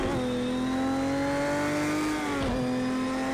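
Porsche 917 LH race car in Project Cars 2 at Le Mans, engine droning loud and steady at high revs with a short blip and dip as the driver heel-and-toe downshifts through an H-pattern manual gearbox.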